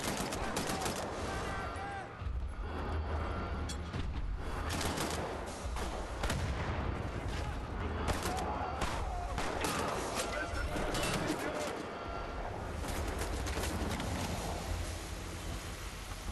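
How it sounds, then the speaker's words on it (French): Video game gunfire crackles almost nonstop, with dense overlapping shots and automatic bursts at a moderate, steady level and only brief dips in intensity. "Qui est l'enfant de salaud qui me tire dessus par derrière?"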